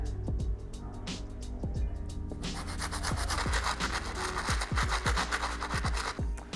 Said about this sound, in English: move on to the outsole using that stiff bristle brush that I was using for the first hit on the midsoles